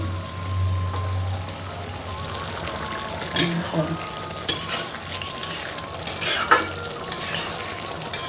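Meat cooking with tomato sizzles in a pan with a steady frying hiss, and a few sharp scraping stirs of a utensil stand out, close by, with a low hum underneath.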